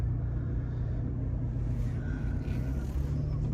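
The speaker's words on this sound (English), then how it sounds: "We're going to pull back up here at the Whiskey Gas Garage." A car rolls up and pulls into the Whiskey Gas Garage, its engine a steady low rumble that stays close and even throughout, with no voices over it.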